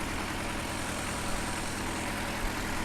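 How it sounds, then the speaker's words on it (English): Steady idling rumble of an old-style tractor engine in the Farming Simulator 2015 video game, a low continuous throb with even texture running unbroken throughout, fairly close and moderately loud, with no voices. "it's not a bad little old style tractor if you're thinking about doing old school farming"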